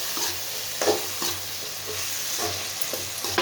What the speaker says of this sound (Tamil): கத்திரிக்காய் ஆட் பண்ணிவிட்டு நல்லா வதக்கிப்போம்